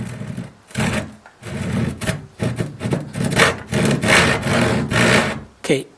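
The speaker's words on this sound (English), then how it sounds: "starting the saw. Don't press down. Just draw back a little to create a little bit of a minor kerf line." A Western hand saw starts a cut in wood with light back-and-forth strokes, giving a near, rhythmic rasping that rises and falls with each stroke and pauses briefly between passes.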